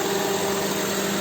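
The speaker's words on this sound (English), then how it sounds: "you can hear the fan, the condenser fan going off" Constant whirring drone with a steady hum from a Honda CR-V AC condenser fan running close by under an idling engine, with the AC low on refrigerant.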